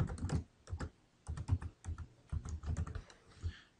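Typing on a computer keyboard while entering a category in Quicken rental property software, a quick run of close, crisp key clicks in uneven bursts with short pauses.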